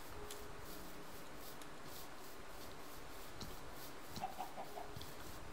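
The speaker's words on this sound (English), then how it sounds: "Lots of chickens over here." Chickens clucking in the video game Minecraft, a few faint, short clucks rising near the end over a steady low background hum, with no talk.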